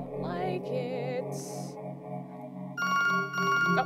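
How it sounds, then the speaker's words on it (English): A phone rings in the video game To The Moon, a bright electronic ringtone that sounds clearly over the game's background music. The ringing is strongest in the last second. "My phone's ringing."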